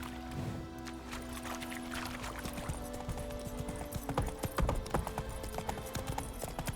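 A horse galloping in The Witcher 3 video game: rapid, rhythmic hoof clip-clops layered over steady background game music and ambience, with a louder burst of hoofbeats near the end.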